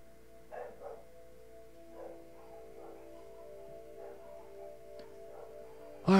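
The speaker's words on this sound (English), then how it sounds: "Why are my dogs barking?" Dogs in the video game Skyrim bark several times in short, faint bursts spread across the stretch over a steady hum, ending with a sudden loud thump.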